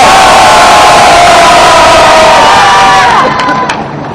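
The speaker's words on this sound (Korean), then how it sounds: "힘찬 박수 한번 부탁드리겠습니다." A crowd at an outdoor peace rally cheers and shouts loudly, a dense roar of voices with clapping that fades slightly toward the end.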